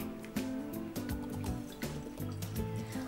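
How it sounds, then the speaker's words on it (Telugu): Water from a glass runs into a thick-bottomed vessel set on a kitchen stove, a steady close trickle and splash with a few louder clinks and gurgles over about three seconds. "ముందుగా ఒక థిక్ బాటమ్ వెజిల్ మనము స్టవ్ మీద ఉంచుకుని ఒక 2-3 గ్లాసెస్ ఆఫ్ వాటర్"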